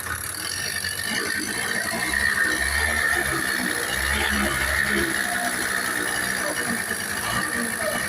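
An imported Japanese Suzuki two-stroke motorcycle engine revs up close, a raspy, buzzing rattle with a low throb that rises and holds fairly loud and steady.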